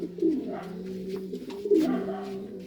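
Racing pigeons coo in a breeder loft, a steady low rolling coo from several birds close by, swelling twice, with no talking over it.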